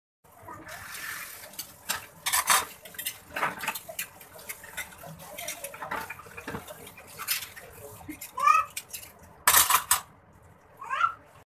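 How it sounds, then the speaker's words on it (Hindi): Dishes, pots and utensils being washed in a kitchen sink make irregular clatters and clinks, with bursts of running water and sharp knocks scattered across the stretch. "जब तक मैं बर्तन धो लेती हूँ।"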